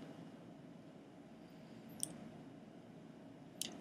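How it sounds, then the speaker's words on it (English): A computer mouse clicks twice, small sharp close ticks a couple of seconds apart over a faint room hum. "So I'll go ahead and click on this course since this is the one I'll be working with."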